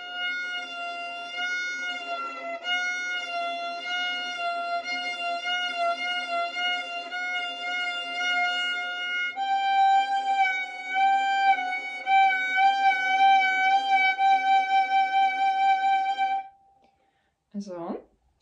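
A violin plays long, sustained notes on the string with a slow, wavering vibrato. The tone changes pitch partway through, stops, and ends with a brief sliding squeak.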